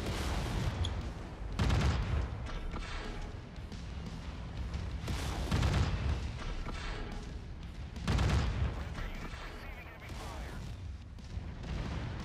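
Repeated bursts of heavy AC5 autocannon fire from a Jagermech in MechWarrior 5, loud booming volleys roughly every three seconds over constant battle rumble, with a voice talking faintly underneath.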